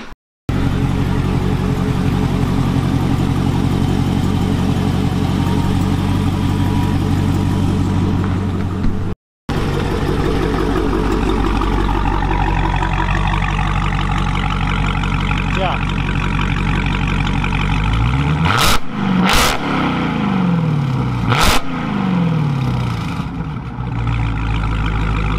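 A Dodge Challenger Hellcat Redeye with a Borla ATAK exhaust rumbles loudly and steadily up close, with a brief cut midway, then several sharp revs rising and falling near the end.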